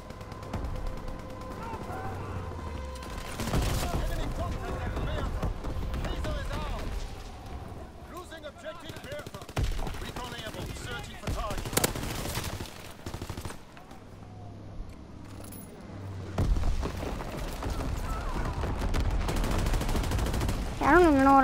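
Rapid gunfire and explosions from a Call of Duty WWII battle, including an inbound carpet bombing run, crackle in dense repeated bursts throughout, loud and near, mixed with game sounds while a player talks over much of it.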